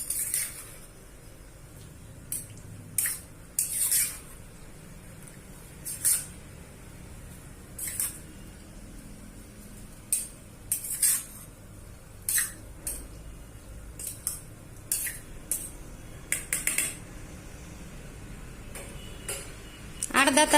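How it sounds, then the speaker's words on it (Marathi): Lemon pepper chicken marinade with lemon juice is stirred in a bowl: intermittent clinks and wet scraping of a spoon against the dish, in irregular bursts over a quiet room hum. "अर्धा लिंबू, हे मिश्रण आपण आता व्यवस्थित मिक्स करून घेऊ।"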